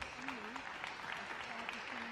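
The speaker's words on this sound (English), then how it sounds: "But the applause continues." Audience applause at a Bonn 2019 duo freestyle event, a steady, distant wash of clapping from a crowd heard faintly under a tonal hum.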